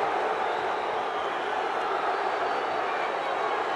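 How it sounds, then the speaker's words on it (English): An arena crowd at an 81kg amateur boxing bout between Julio Cesar La Cruz and Teymur Mammadov makes a dense, steady roar of many voices that stays even and distant throughout. "the crowd thoroughly enjoying this one"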